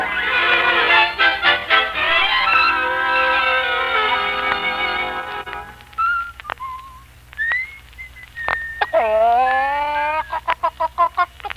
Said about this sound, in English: Ah, you've woken up at last, Rooster.